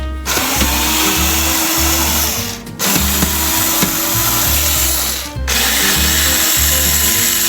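A power driver backs screws out of the vent fan trim inside an Imagine 22 MLE RV. It gives three long, loud whirring runs, separated by two brief pauses, with a grinding edge close up.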